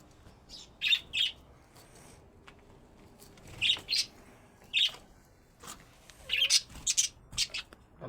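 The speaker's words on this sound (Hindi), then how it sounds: "तोते भी दिखाओ।" Parrots let out short, sharp chirps and squawks in scattered bursts, some clustered in quick pairs, with quiet gaps between calls.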